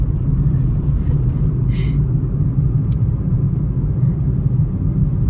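A car drives slowly along a foggy mountain ghat road, its engine a steady low rumble filling the whole stretch, with a faint brief rattle partway through and no clear talk.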